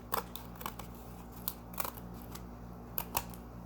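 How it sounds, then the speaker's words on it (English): Scissors snip through paper during an envelope craft project, a handful of crisp, close cuts spaced irregularly in a quiet room with no talking. "This stuff is so easy just to cut off with your scissors."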